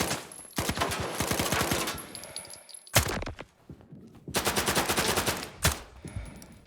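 Video game gunfire rattles in several long automatic bursts with short gaps between them, loud and close, with ringing metallic tones in the background.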